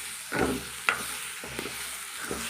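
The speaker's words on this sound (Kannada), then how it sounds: "ಇವಾಗ ನಾನು ಮಿಕ್ಸ್ ಮಾಡ್ತೀನಿ." Mixed-grain and greens stir-fry being stirred in an oily pan, a few distinct scraping strokes over a soft steady sizzle, close and alone without talk.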